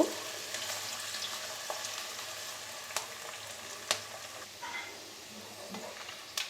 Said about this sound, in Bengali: এবার পেঁয়াজটাকে বেরেস্তা করে ভেজে নেব